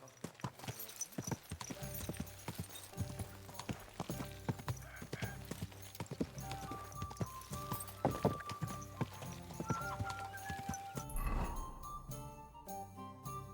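Rhythmic clip-clop of horse hooves in Kingdom Come: Deliverance II plods along steadily over a game soundtrack of light music, with a brief whoosh near the end.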